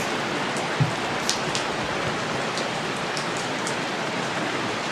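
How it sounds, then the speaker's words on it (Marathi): Steady rain pours down with a dense, even hiss, punctuated by a few faint drips and taps. "पाऊस थांबायचं नाव घेईन. हवेत ओलसर गारवा."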